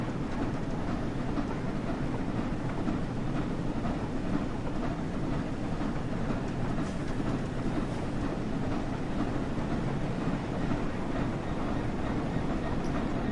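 A GB Rail Freight Class 66 diesel freight locomotive in Train Sim World 5 gives a steady, even rumble with a constant low drone and no talk.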